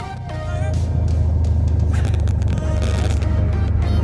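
A Piper PA28 Warrior's engine throttled back to idle on the ground after a magneto check, a loud, close, steady drone with a low throbbing pulse and faint rattles through the cabin.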